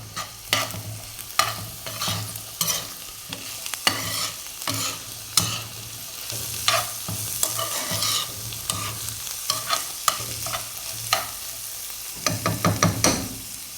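Wilted onions and other ingredients for chicken matbakh sizzle steadily in a pan while a utensil repeatedly scrapes and stirs, clattering sharply against the metal, close and with no voices.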